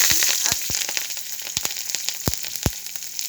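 Chopped onion with dried chillies frying in oil while being stirred, a bright continuous sizzle punctuated by several sharp knocks of a spatula on the pan, close up with no talking.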